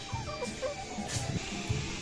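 Laying hens on a farm flock of about a thousand birds cluck and squawk in scattered bursts, several birds close by over a constant background hum.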